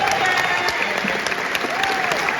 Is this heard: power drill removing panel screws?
no